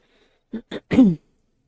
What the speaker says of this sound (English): Sorry if I clear my throat a lot.